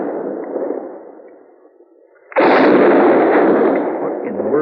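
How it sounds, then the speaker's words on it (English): Sharps rifle gunshots ring out during a buffalo hunt in a 1957 Western radio drama: a low, quieter rumble gives way to a sudden loud, sustained blast of gunfire that stays close and dominant. "What in the world is he shooting at now?"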